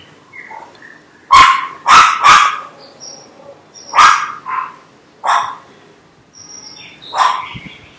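Several dogs bark outdoors near a homemade dog box, loud sharp barks coming singly and in quick pairs with pauses between, with faint bird calls in the gaps.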